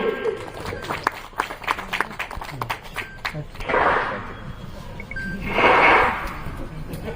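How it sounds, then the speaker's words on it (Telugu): Applause at a stage event in a colony gathering, scattered claps first, then two short swells of clapping from the audience, mixed with voices and crowd noise. "అందరూ కూడా చప్పట్లు కొట్టండి"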